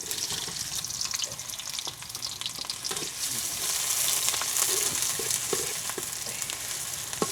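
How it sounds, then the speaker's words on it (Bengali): Chopped onions frying in hot mustard oil, a steady loud sizzle with occasional stirring scrapes and pops throughout. "তেল এবং পেঁয়াজ কিছু সময় আমরা ভেজে নিব।"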